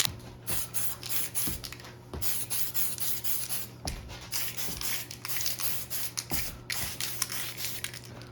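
Tamiya PS16 polycarbonate spray paint goes on in a light coat over a masked RC Subaru Impreza WRX STi lexan body: close, repeated aerosol hisses in short uneven bursts with faint handling rubs between, no talking.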